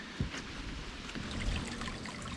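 A small stream trickles near a wooden footbridge on a Northwest Georgia trail, a steady, gentle, close wash of running water with no voices.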